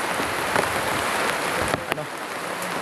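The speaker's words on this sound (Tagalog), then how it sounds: "Bigla nang bubuhos ang ulan dito." Steady rain pours down as a dense, even hiss, with a few sharper knocks and clatters breaking through.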